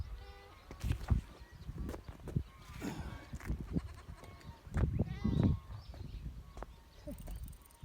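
Goats bleating while they graze at a countryside spot, several calls at varied distances over a low outdoor background, a few louder bleats standing out near the middle.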